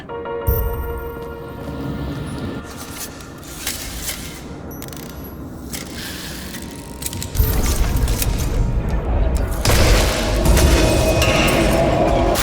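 A chandelier is hoisted in the video game Nobody Wants to Die, with mechanical creaks, rattles and clanks that build into heavier rumbling thuds near the end, loud and close with no talk.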